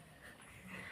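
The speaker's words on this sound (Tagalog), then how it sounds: "Tumatahol sila." Puppies barking and whimpering, faint and close, a brief burst of soft yips and whines lasting about a second.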